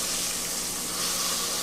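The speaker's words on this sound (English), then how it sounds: "we're at the last of me frying" Cube steak frying in a pan, giving off a steady, dense sizzling hiss that holds an even level throughout without a break.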